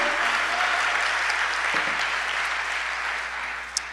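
A church congregation clapping together in praise during a sermon, a dense, steady wash of applause that tapers slightly at the end with a single sharper clap.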